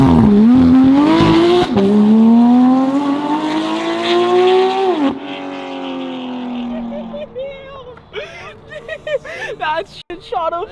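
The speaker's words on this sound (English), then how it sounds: "You asked for a rolling burnout. That's your rolling burnout." A Porsche 991 GT3 RS fitted with an F1-style exhaust roars through a rolling burnout, its loud high-revving engine note climbing and dropping and then fading into a lower rumble, with excited voices over it.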